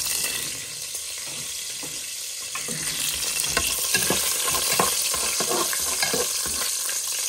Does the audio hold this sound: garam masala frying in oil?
yes